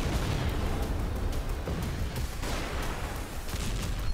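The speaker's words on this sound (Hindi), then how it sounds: "मिसाइल विस्फोट के बाद सैन्य कैंप तबाह हो गया" Continuous rumbling blasts and explosive booms from missile strikes with crackling bursts, loud and dense throughout, like a heavy bombardment.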